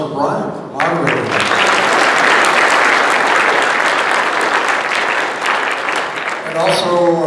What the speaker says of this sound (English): could we give a good round of applause for Brian, for moderating?